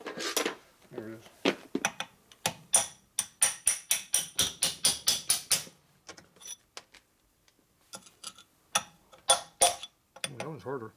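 Sharp metallic hammer blows ring out during a top-end rebuild of a 1983 Harley FXRT 80ci shovelhead, with a fast regular run of strikes, then scattered hits and a few spoken words, close and loud.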